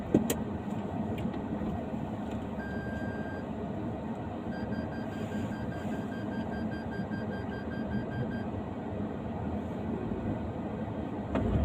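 A car moves slowly during a driving lesson while its engine hums steadily inside the cabin, low and constant for the whole stretch, with a few faint tonal beeps partway through and no one speaking.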